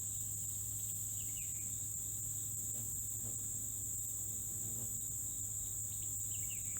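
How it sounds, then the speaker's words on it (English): Crickets chirp in a steady, unbroken high drone that runs the whole way through, fairly faint and alone, with no voices. "Too many crickets."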